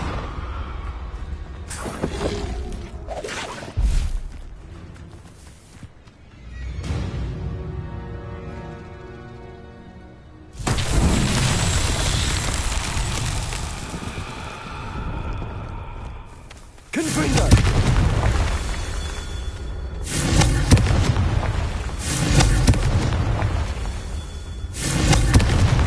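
Spell explosions crack and boom in the video game Hogwarts Legacy, with repeated blasts and rumbling impacts set among combat effects and a musical score, and a player speaking in places.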